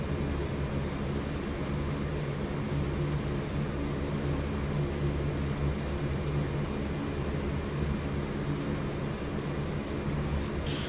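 Steady, droning engine roar of a C-130J Hercules turboprop transport in the DCS World flight simulator as it lines up on the runway, a constant loud hum with no voices over it.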